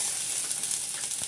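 Dried red chillies drop into hot oil in a frying pan for a Bengali mango sour curry, giving a steady close sizzle and crackle with no talk.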